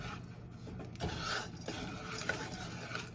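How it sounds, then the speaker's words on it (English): Melting sugar for a burnt sugar caramel is stirred in a pan, giving faint, irregular scraping and rubbing strokes up close, with no one talking. "See how it's melting? That's what you want. You just stir it."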